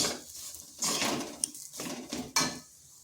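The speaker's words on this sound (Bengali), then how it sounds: "সমস্ত উপকরণ ভালো করে মিশিয়ে নিচ্ছি।" A spoon clinks and scrapes against a metal bowl as poha snack ingredients, including chana dal, are mixed by hand, with a few sharp taps in an irregular rhythm, close and alone.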